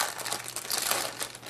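Protective plastic bag around a red phone crinkling during an unboxing, a close, steady run of soft crackles and rustles lasting over a second with no voice over it.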